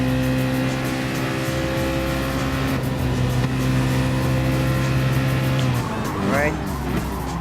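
Group C race cars, including an Audi R18, roar loudly in a Gran Turismo Sport race, sustained engine drones shifting pitch as cars pass, ending in a rising whine with tire squeal, under faint commentary.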